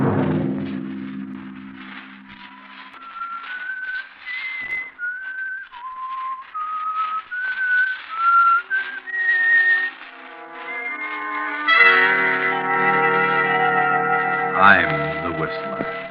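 Haunting whistled signature theme of The Whistler radio drama, a lone melodic whistle gliding from note to note, then joined by a swelling orchestra.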